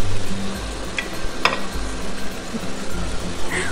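Turkey meat fries in a pan, a steady hiss and crackle with a few sharper pops, close and fairly loud, with no talking.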